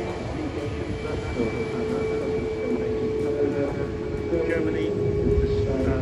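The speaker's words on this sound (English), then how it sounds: "Another TUI Boeing 737-800 then takes off" A TUI Boeing 737-800 taking off at Manchester Airport, a steady broad roar with a sustained tonal whine, held at constant level and heard from a distance.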